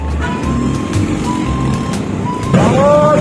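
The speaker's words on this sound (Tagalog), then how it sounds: "Ang traffic, my god." Busy city street with car and truck engines idling and moving nearby, a truck's reversing beeps sounding in a steady series, and a voice speaking over the traffic.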